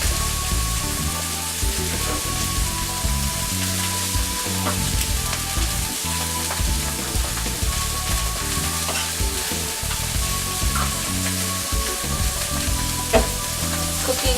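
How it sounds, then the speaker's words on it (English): Pasta stirred in a sizzling pan on a home kitchen stove, with steady frying crackle and repeated scraping, clattering stirs close by. "And stir up this pasta."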